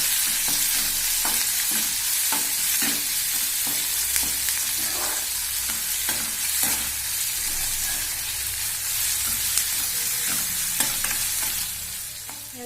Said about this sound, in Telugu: కొంచెం ఉప్పు వేసి కలబెట్టాలి